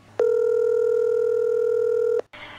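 A telephone line sounds one steady two-second tone, loud and clean, then cuts off and gives way to a short burst of noise.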